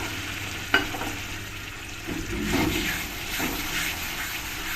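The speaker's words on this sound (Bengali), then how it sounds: "এই পেঁয়াজের সঙ্গে আমি পেস্টটাকে ভালো করে মিশিয়ে একটু ফ্রাই করে নেব" Onion paste stirred into fried onions in a pan for chicken bhuna, giving a steady close sizzle with scraping stir strokes and one sharp knock near the start.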